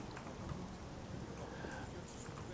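Steady rain falls in The Elder Scrolls IV: Oblivion, a faint continuous hiss with scattered louder spatters and no clear voice.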